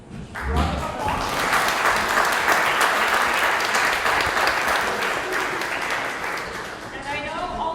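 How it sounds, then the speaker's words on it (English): A crowd at a kickoff event breaks into sustained, loud applause for Judge Sonia Bitar, a dense, even wash of clapping that holds steady for several seconds before easing slightly. "Round of applause."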